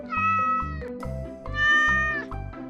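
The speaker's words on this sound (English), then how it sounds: "cat." A domestic cat meows twice in drawn-out, clear calls, set over steady rhythmic background music.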